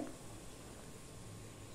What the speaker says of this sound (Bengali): দেখো চিনির শিরাটা ফুটছে